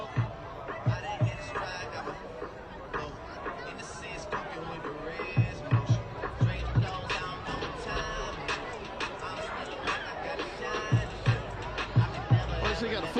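Crowd in the stands at a Friday night high school football game, Summerville against West Ashley: a steady murmur of chatter and hubbub with scattered thumps and louder swells, moderately distant, continuous throughout.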